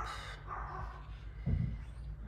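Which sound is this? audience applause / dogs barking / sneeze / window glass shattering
dogs barking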